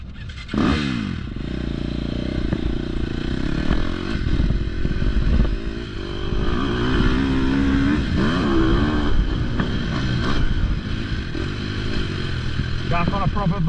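A four-stroke dirt bike rides on a motocross track, its engine revving and rising and falling continuously close by, with clattering mechanical noise and people talking over it.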